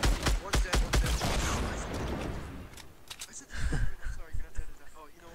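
Sharp, loud gunshots in the video game Fortnite, a quick run of close, punchy shots at the start and scattered later bursts, mixed with players talking.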